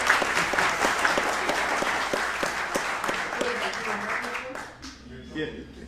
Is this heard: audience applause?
yes